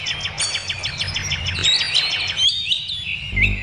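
Several small birds chirp and tweet in rapid, overlapping bursts, fairly close and steady, with a low musical bed underneath, gathered at a big tree in an animated Balinese folk tale.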